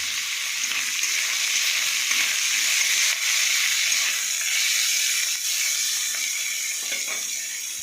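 Onion frying in a pan with black cumin seeds in oil left over from frying fish, a loud, continuous crackling sizzle for about eight seconds, close and alone with no speech.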